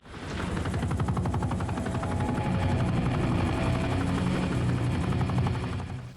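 Helicopter in the Modern Warfare 3 video game, a loud continuous rotor chop with rapid thudding pulses and engine whine, steady and close throughout, with no talk.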